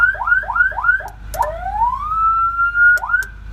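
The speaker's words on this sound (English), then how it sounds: "So we've got a siren controller here." A siren controller on a Ford F350 emergency truck sounds close and loud: a run of quick rising yelp chirps, then one long climbing wail that holds steady before a final chirp.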